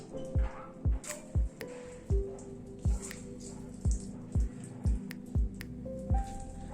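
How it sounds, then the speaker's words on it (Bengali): Water drips steadily from soaked soya chunks being squeezed by hand, about a dozen distinct close plops falling in a fairly regular rhythm over quiet background noise. "নিয়ে এবার সয়াবিনের জলটাকে নিংড়ে চিপে ফেলে নিচ্ছি।"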